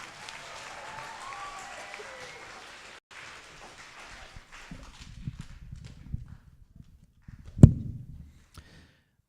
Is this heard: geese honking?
no